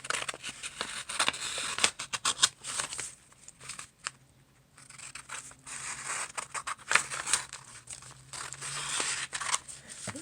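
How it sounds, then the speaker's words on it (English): Scissors cutting out a patterned gift bag to an 8x10 size, close, busy snipping and crisp paper rustles in uneven bursts, with a brief lull partway through and no speech. "I'm going to take the bag and cut out the 8x10 size."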